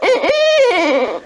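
An owl recorded in Central Texas gives a loud, close hooting call: a run of strong, tonal, rising and falling hoots with a slightly rough, wavering quality, heard clearly with no talk over it.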